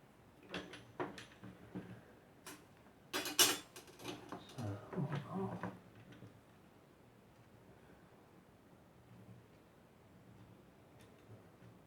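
Small screws come out of a Nintendo GameCube case with soft clicks, scrapes and plastic rattles, clustered close and faint in the first half, then fading to quiet room tone.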